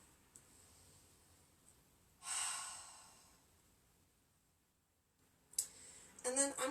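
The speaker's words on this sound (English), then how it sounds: "Feel free to release that Ujjayi breath." A single long Ujjayi breath is exhaled through the mouth during a power yoga class, a soft breathy rush that fades out slowly. A few faint clicks and rustles follow near the end.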